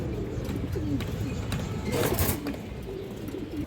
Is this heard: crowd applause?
no